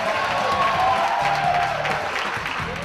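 A sold-out ballroom crowd at a breast cancer research dance-off benefit cheers and applauds, a dense continuous wash of clapping and voices with a narrator talking over it.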